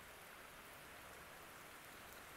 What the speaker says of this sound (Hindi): आवाज़ आ रही होगी पानी की।